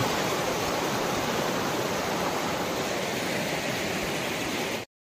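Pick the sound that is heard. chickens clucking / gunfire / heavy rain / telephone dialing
heavy rain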